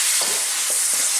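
Pork stir-fries in a hot Asian wok with broccoli to come, a loud continuous hiss and sizzle with a few soft scraping stirs from a utensil.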